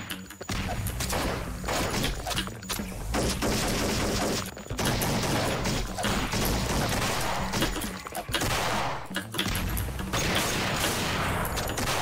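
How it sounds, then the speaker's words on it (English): Grenade launcher fire in the Flash game Thing Thing 4 on hard mode: loud, dense back-to-back blasts and gunfire roll on almost nonstop, broken by only a few short gaps. "My first weapon, a grenade launcher."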